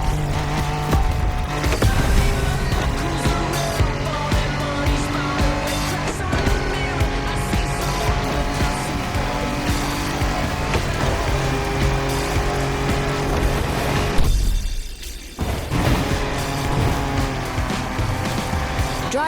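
Off-road car in The Crew Motorfest roaring steadily with a loud, sustained engine drone and shifting pitch, tires hissing over rough ground, with a brief dip in the engine noise near the end before it picks back up.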